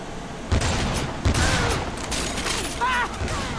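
Gunfire in the hack-and-slash video game Lollipop Chainsaw during a baseball game, with a couple of punchy shots under a dense, loud layer of game noise and voices talking.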